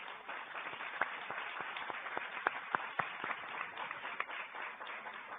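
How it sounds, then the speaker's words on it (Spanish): Audience applause for the panelists at a real estate law conference session, a steady crowd clapping with scattered sharper individual claps, moderately quiet and without talk. "les agradecemos y les brindamos un aplauso a los panelistas"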